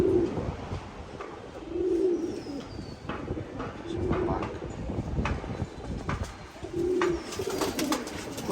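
Several pigeons being readied for a flying tournament give soft, repeated coos in a steady rhythm. The calls sit close and clear over a low rumble in the background.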